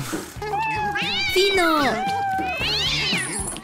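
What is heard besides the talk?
cat meowing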